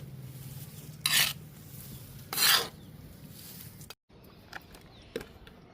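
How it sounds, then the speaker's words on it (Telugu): Cocopeat and potting soil mixed together for planting a philodendron, with two loud gritty scraping bursts over a low steady hum, then a short pause and a few lighter rustles and scrapes. "కోకో పిట్ని మట్టిని కలుపుదాము."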